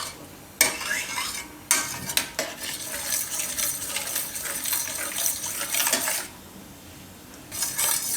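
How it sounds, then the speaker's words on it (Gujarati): A chocolate laddu mixture thickening in a pan is stirred with a metal spoon, giving busy, continuous scraping and clinking that breaks off briefly before resuming. "આને આપણે હલાવતા રહેવું વચ્ચે વચ્ચે, એકદમ ઘાટું થાય ત્યાં સુધી"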